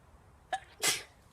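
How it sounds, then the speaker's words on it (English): A single person's sneeze, with a short sharp intake followed by a loud, close, breathy burst that fades quickly in a quiet room. "I just sneezed"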